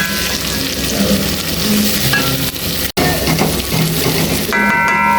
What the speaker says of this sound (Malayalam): ഉള്ളി അവിടെ വഴറ്റി എടുക്കുന്നുണ്ട്. അത് നന്നായിട്ട് വഴണ്ട് വരണം.